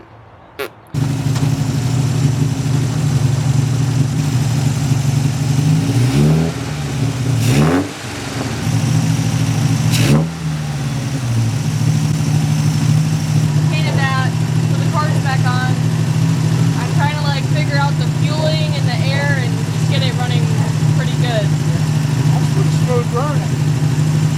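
A car engine with a vacuum leak idles high at around 2,000 RPM, a steady loud droning hum with a few brief revs, while people talk nearby over it.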